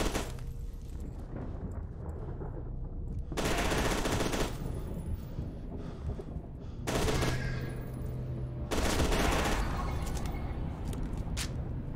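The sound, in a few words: gunfire in F.E.A.R. 2 video game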